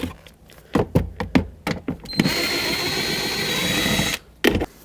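Power tool spinning out 10mm bolts on a 2003-2021 Chevrolet Express during MAP sensor connector work: a series of short bursts, then a sustained whir of about two seconds, then a brief final burst, heard close.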